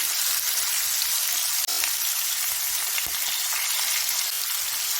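A steady, loud hiss of panch phoron, bay leaves and dried red chillies sizzling in hot oil, constant throughout, with one brief click.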